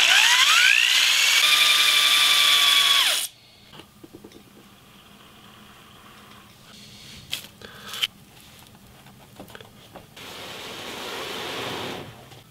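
A power drill spins a wooden spindle against a board for a friction-fire ember, a loud rising whine that holds steady for about three seconds and then cuts off, followed by quiet outdoor handling with faint clicks and rustles.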